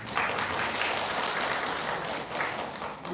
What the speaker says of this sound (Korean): 여기 박수 한번 가주세요